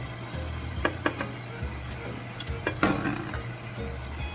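Small frozen baby octopus (jjukkumi) cooks in a pan with oyster sauce and chicken stock. A steady close sizzle and bubbling run throughout, with scattered clicks and scrapes of stirring against the pan.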